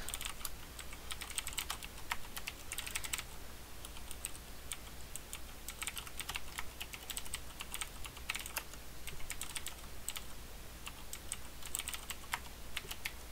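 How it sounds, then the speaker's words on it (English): Code is typed on a computer keyboard in a rapid, continuous patter of close key clicks over a faint steady hum, with no talking. "I'm just going to type that out really quick"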